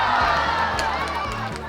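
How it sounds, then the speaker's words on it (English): Basketball game crowd cheering and shouting in a gym, a dense, steady roar of many voices with children's shouts rising above, sustained throughout with some music-like tones underneath. "I couldn't help but notice the cheers of the crowd"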